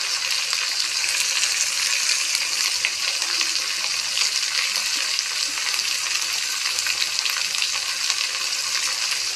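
Flat beans and chopped long beans fry in hot oil in a pan, a loud, continuous close-up sizzle with steady crackling that holds throughout.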